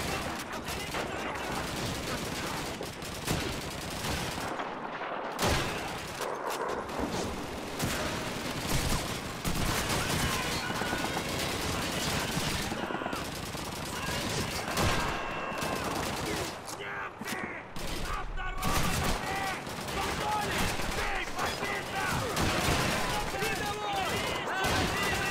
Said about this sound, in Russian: Ясно, там пулемет.